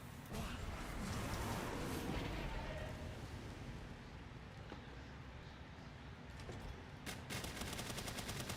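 A minigun in the game Palworld fires in a sustained, dense roar of rapid shots with heavy low rumble, loud and continuous for the whole stretch.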